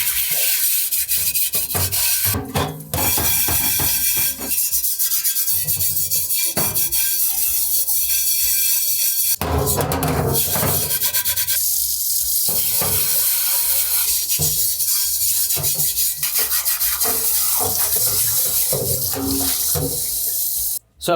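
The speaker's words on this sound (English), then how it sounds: "I'll put some water in the pan, and I'll start to give this a scrub" A chainmail scrubber is worked over an old cast iron pan with water, making rough, continuous metallic scraping and rubbing strokes with brief pauses, close and loud, as flaky seasoning and rust spots are scoured off.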